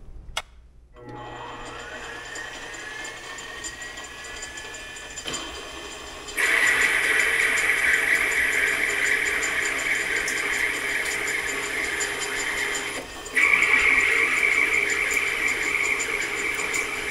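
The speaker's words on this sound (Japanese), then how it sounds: "はい、ではまずアルミから加工内容としては、直径で1ミリ削る加工を3回行います。" A metal lathe turns aluminium, taking 1 mm off the diameter. A steady mechanical whir starts quietly, then at about six seconds a louder, brighter cutting tone begins and holds. It rises again near thirteen seconds, with no talking.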